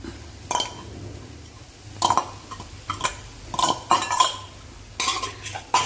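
A spoon stirring soaked kasuri methi into potato curry in a pan, with irregular metallic scrapes and clinks against the pan in short bursts, close and moderately loud, no talking.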